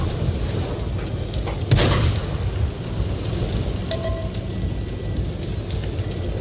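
A loud tank cannon shot booms out in World of Tanks, a single heavy blast that stands above a constant rumbling roar of battle, with faint later pops and pings and nobody speaking.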